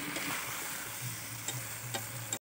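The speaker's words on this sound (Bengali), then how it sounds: "তাই দেখো মাংস কষানো চলছে।" Meat being fried and stirred in a pan before pressure cooking, a soft continuous sizzle with a few light scraping ticks, fairly quiet and close, ending abruptly.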